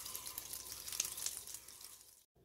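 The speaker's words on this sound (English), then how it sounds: "we're gonna be washing this with some warm soapy water just to clean off anything that might have been there from the factory" A HexClad pan is washed under running warm soapy water, giving a bright, steady rush and splash that stops abruptly just before the end.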